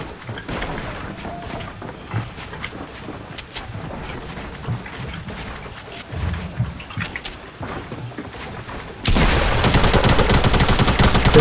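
Gunfire crackles through a busy Fortnite match with sniping, a dense stream of shots and impacts that swells into a loud, harsh blast near the end.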